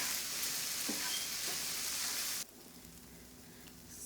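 Chicken frying in a pan as a parantha filling, cooked until its moisture dries off: a steady, close sizzling hiss that drops abruptly to a quieter simmer partway through.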